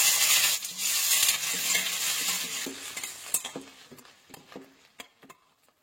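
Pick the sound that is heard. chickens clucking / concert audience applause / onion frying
onion frying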